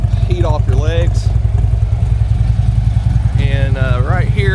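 A 2015 Harley-Davidson Electra Glide Ultra Limited runs steadily at idle nearby, its low, pulsing engine rumble continuous throughout while someone talks over it at two points.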